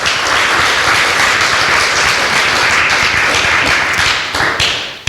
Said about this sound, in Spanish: Puedes sentarte con un aplauso para el Señor.